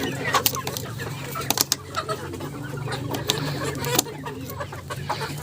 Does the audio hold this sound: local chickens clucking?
yes